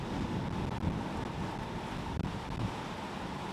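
A sailboat runs on the open Atlantic in steady wind with one reef in the main, making about 9 knots; constant rushing wind and wash of waves fill the air evenly, with no voices.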